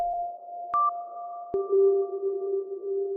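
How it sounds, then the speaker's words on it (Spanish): Synth tones played through FL Studio's Fruity Convolver with a loaded impulse response: sustained electronic pitches that start with sharp clicks and change note, each ringing on smoothly with a long, even reverb tail. "lo está transformando para convertirlo en la reverberación de lo que yo le estoy insertando"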